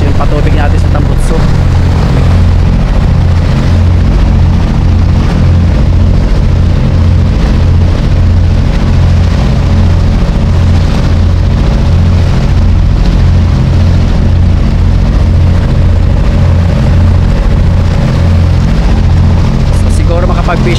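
Boat engine runs loud and steady on a fishing boat, a constant low rumbling drone with the water pump outflow rushing and splashing beneath it, while someone talks over the noise.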